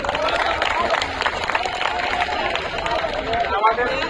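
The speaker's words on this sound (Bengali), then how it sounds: "তো আমরা করতালি দিই তাদের জন্য।" An audience claps for tied teams at a school science quiz competition, a steady dense patter of many hands filling the room with crowd murmur mixed in.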